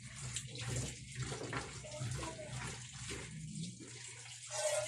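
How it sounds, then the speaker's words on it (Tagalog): Cut papaya is washed under running water, a continuous close splashing and gushing of a tap with small shifts as the pieces are handled. "Hugasan natin."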